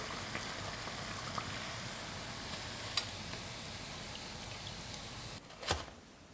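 Dough cakes (you xiang) deep-fry in oil over medium heat while being flipped, giving a soft, steady sizzle with scattered small pops and a brief clatter near the end.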